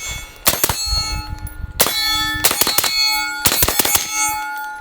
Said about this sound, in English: Now we're gonna go on the steel, try to double tap.